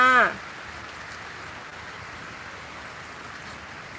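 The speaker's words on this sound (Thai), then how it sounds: "ฝนก็ตกหนักมากเลยค่ะเพื่อนๆ" Heavy rain falling outside a home garden of colourful caladium plants, a steady even hiss that runs unbroken after a brief voice at the very start.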